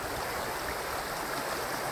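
Creek water flowing into a river run at the top of a stretch near a salmon hatchery on the Carbon River, a steady, dense, close rush with no pauses.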